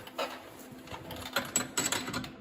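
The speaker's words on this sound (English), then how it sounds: "This is a clutch puller tool for a John Deere Gator" Clutch puller tool working on the clutch of a John Deere 625i Gator, giving a run of irregular metallic clicks and ratcheting bursts, fairly close and moderately loud, with no talking.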